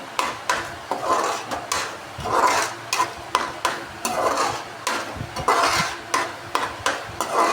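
Taro (arbi) with yogurt, fried and stirred in a pan, with a steady sizzle under repeated scraping strokes of a ladle, loud and close.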